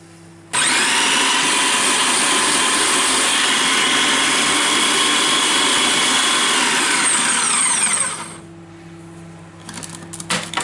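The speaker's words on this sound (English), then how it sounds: "Okay, so now we're gonna blend this." A loud, steady electric mixer motor whirs continuously for about eight seconds blending joconde sponge batter, then cuts off, leaving a quieter hum and a few small clatters.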